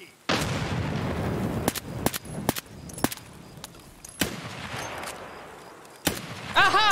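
Gunfire in the shooter game Escape from Tarkov: a string of sharp, loud shots at irregular intervals over a steady background rumble, with a rising tonal effect at the end.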